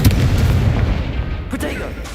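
An Incendio fire spell in Hogwarts Legacy goes off as a loud, close burst of roaring flame with a deep rumble that decays over about two seconds, with a voice faintly underneath.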